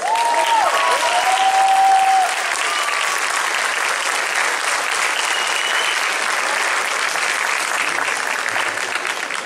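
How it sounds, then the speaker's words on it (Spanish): Audience applause greets a band at a tribute concert marking a musician's birthday, a dense steady wash of clapping that runs for nearly ten seconds, with a brief tonal sweep near the start. "vamos a darles un aplauso para recibirlos como se merecen"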